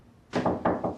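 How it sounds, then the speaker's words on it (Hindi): Knocks land on a locked bedroom door, a quick triple rap of dull wooden thuds, close and fairly quiet, with no voices. "हयात, दरवाजा खोलो"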